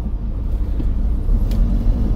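A car engine hums low and steady at a slow, even pace on a mountain road, with a dull rumble and no voices present.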